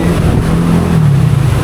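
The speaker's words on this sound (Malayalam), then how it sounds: "ബൈക്ക് തന്നെ പോണ്." A motorbike passing along a wet street in heavy rain in Manila, its engine drone shifting in pitch as it goes by over a continuous hiss of rainfall.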